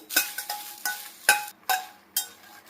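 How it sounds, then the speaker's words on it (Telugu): Dried red chillies frying in a pan while a spoon stirs them, six evenly spaced scraping strokes over a faint sizzle, close and moderately quiet. "అదే బండిలో ఎండుమిర్చి అయితే యాడ్ చేస్తున్నాను ఒకసారి మొత్తం కలుపుకున్నామండి"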